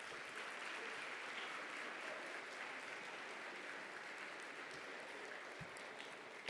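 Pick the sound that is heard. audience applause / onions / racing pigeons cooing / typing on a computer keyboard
audience applause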